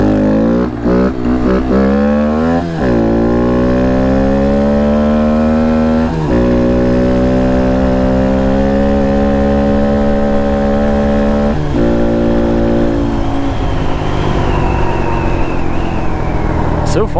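A Honda Monkey motorcycle with a Termignoni aftermarket exhaust climbing through the gears while riding, smooth rising engine tones with brief drops at each shift, loud and close.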